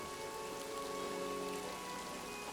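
Steady rain patters continuously in the trench warfare video game All Quiet in the Trenches, a dense even hiss of drops with no voices over it.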